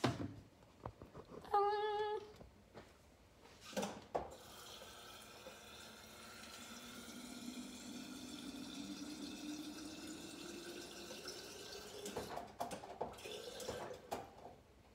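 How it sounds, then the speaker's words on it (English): Water is poured into a hookah jar, a steady close trickle that runs for several seconds after a few brief clinks and handling knocks, then stops. "So I'll just put some water in it."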